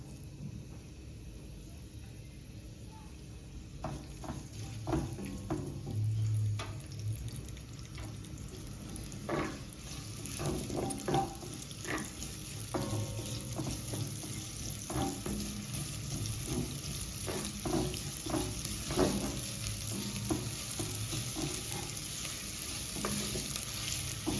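Red onions frying in a pan for a ginger butternut soup, a quiet steady sizzle broken by scattered clicks and scrapes of stirring, with no talk.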